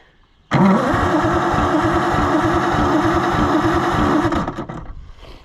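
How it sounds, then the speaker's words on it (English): An Oliver Super 77 tractor engine in a salvage yard cranks after a shot of starting fluid, a loud sudden churning starter rhythm that runs steadily for about four seconds before tapering off, close and alone. "We're gonna give it a little shot of the good stuff and crank."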